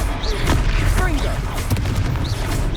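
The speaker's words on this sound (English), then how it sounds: "Confringo!" A Confringo fire blast spell in a wizarding video game bursts out as booming, explosive thumps amid a loud, chaotic combat mix, with voices shouting over it.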